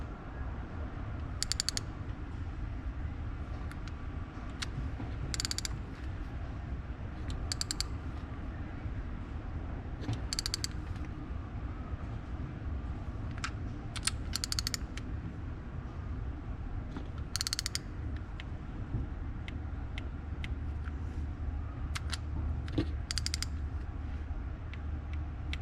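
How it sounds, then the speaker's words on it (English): A torque wrench tightens nuts on a 6.7 Cummins cylinder head fitted with ARP studs. Separate ratcheting clicks and creaks come at irregular intervals over a steady low shop rumble, with no one talking. "we got our torque wrench set to 71 inch-pounds"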